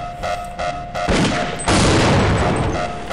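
Gunfire in Half-Life: Opposing Force, loud and close: a few separate blasts open, then a dense, sustained burst of shots with crashing impacts that builds to a heavier roar in the second half.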